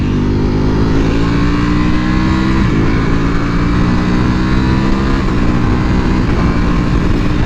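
A Ducati Panigale V4R motorcycle on a street ride, its engine a loud, continuous close drone with steady harmonic tones and slight pitch shifts as it rolls along, no talking.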